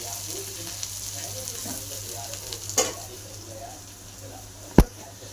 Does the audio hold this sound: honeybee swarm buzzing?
no